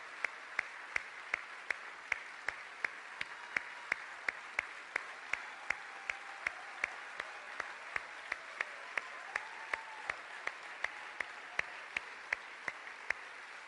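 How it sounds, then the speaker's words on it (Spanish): A congregation applauds during a church service, a steady wash of clapping that carries on for a long stretch with sharp regular accents standing out above it. "los aplausos no son suficientes"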